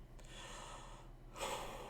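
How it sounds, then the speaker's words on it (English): A single snort-like throat-clearing burst from one person, sharp and breathy, arriving near the end of an otherwise quiet stretch with low background hum. "That's not how you clear your throat."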